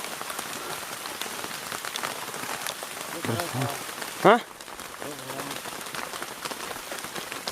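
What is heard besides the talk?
heavy rain during chili harvest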